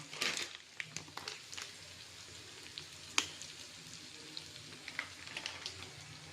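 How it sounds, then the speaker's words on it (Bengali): Tomato, onion and spices frying in a pan, a quiet sizzle broken by scattered sharp crackles and spits, with soft stirring movement. "টমেটো কান্দা ফ্রাই করার পরে এবার ঢেঁকি মিরচি হালকা দিয়ে দেবো"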